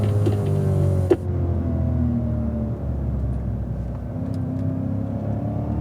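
A 2016 Cadillac CTS-V drives a race circuit at steady throttle, its engine a loud, continuous close-up drone that holds a near-constant pitch and slowly eases lower.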